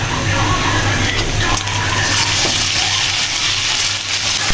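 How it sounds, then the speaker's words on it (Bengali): A little water is poured into a pan of onion, ginger and garlic masala for a rohu fish curry with drumsticks, giving a steady close hiss and splash that runs the whole time, with faint talk beneath. "মশলাটা কষানোর জন্য সামান্য একটু পানি দিয়ে দিলাম।"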